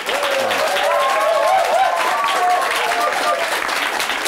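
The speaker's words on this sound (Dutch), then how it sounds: "Mag ik allereerst een warm applaus voor mijn eerste tafelgast, Sharon den Adel van Within Temptation." Studio audience at a Dutch talk show applauds a table guest, Sharon den Adel of Within Temptation, with steady, dense clapping filling the room for several seconds, a few voices and cheers mixed in.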